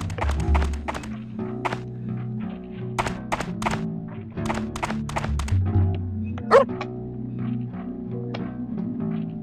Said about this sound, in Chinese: 哦，狗狗，好瘦哦